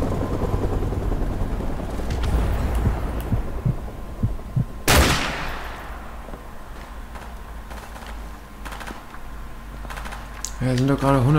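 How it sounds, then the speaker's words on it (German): A helicopter in the video game Call of Duty Modern Warfare Remastered gives a low, steady rotor throb under game gunfire and a sharp explosion, while players talk over it. "Vorsicht, da kommt Hubschrauber!"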